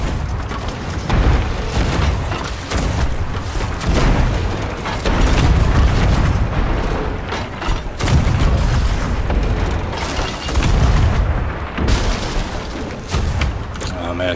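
Ship cannons fire in the Sea of Thieves video game, heavy booms and rumbling blasts repeating over a dense, loud mix of ocean and combat noise with no clear gaps.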